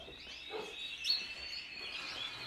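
Canaries sing in a room, a continuous thin, high warbling chatter with trills, moderately close, with no talk over it.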